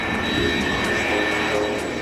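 A-10 Warthog jet aircraft taking off, a loud steady broadband roar with a high turbine whine held throughout, no voices.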